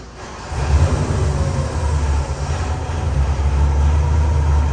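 An LS 441 crate engine fitted in a 2006 Porsche 911 roars steadily on a dyno, a loud, sustained low rumble that holds and builds slightly in intensity with no speech over it.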